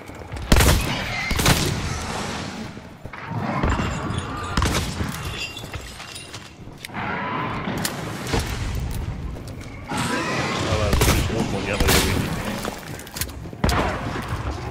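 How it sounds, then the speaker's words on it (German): Gunfire in the video game Hunt: Showdown, a series of sharp booming shots spread across the stretch, some louder and closer, others distant, over a rumbling game ambience. "Schüsse?"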